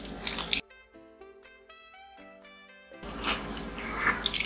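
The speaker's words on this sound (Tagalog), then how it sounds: "Pero malutong pa rin yung chicken." Crunchy chicken bagnet, the crispy deep-fried Filipino dish, bitten and chewed close up, with loud crackling crunches in bursts at the start and end and a quieter stretch in between.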